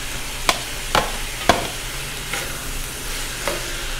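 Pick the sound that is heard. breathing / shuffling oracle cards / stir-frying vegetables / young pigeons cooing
stir-frying vegetables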